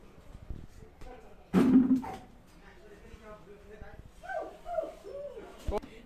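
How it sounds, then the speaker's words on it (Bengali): A dog gives a single loud bark up close, followed by softer whining yips, while people talk nearby in a home setting with a goat. "ম্যাক ডাকছে কিন্তু, ওকে কামড়ে দেবে পেলেই"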